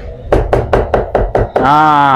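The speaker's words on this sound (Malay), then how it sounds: "Ketuk bawang putih dulu." Garlic cloves are pounded before frying: six sharp, evenly spaced knocks ring out close by, followed by a sustained tonal hum.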